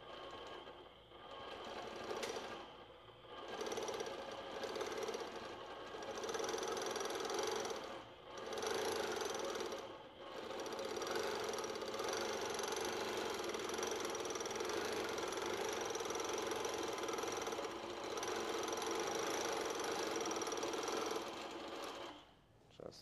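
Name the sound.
longarm quilting machine stitching fabric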